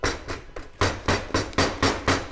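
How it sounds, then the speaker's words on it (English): Swedish fikabröd dough slapped and thrown against a surface by hand, a run of about eight dull, heavy smacks in a steady rhythm, close and loud with no voices. "Slap the dough."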